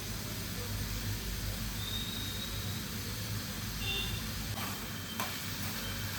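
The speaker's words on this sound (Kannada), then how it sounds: "ಮೆಣಸಿನ್ಕಾಯಿ ಹಾಕ್ತಾಯಿದ್ದೀನಿ" Green chillies sizzle in hot oil in a pan for an egg curry, a steady close frying hiss with faint stirring scrapes throughout, no voices.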